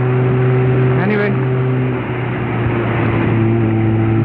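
Infenity LS350F 350cc motorcycle cruising at high speed, a steady engine drone with strong low harmonics and broadband wind rush throughout, continuous and loud, with a brief pitch shift midway.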